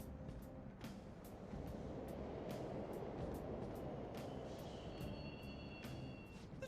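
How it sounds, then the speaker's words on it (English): Subway trains in Persona 5 Royal rumble steadily as one continuous rolling roar, with light clanks and a faint high squeal near the end. "The trains are totally running."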